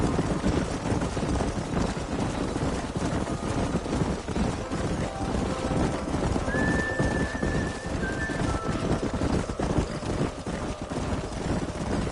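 Horses in a Western video game, a continuous drumming of hooves under wind, with a short high whinny rising above the gallop partway through.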